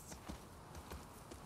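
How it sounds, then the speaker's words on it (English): Soft, faint hoof clops of a horse walking in the video game The Last of Us Part II, an uneven rhythm of a handful of light thuds over a low background hiss. "I love this horse."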